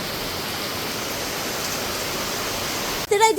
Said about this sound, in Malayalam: ഇവിടെ നല്ല മഴ പെയ്തുകൊണ്ടിരിക്കുകയാണ്